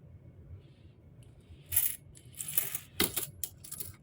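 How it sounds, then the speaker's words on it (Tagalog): Old Philippine centavo and peso coins clink and jingle as they are dropped and sorted by hand, a scattered run of bright metallic taps over a quiet background hum. "Yun, napakarami kabarya"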